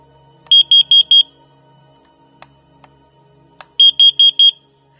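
An X-Sense CO03J battery-powered carbon monoxide detector sounds its alarm in two loud bursts of four rapid, piercing beeps, separated by a pause with a few faint clicks, close to the listener.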